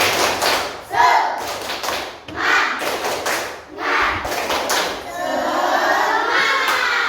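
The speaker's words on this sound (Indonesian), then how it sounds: "Yuk kita tepuk semangat" A group claps in a rhythmic pattern, bursts of thudding claps separated by short pauses, ending in sustained cheering and clapping.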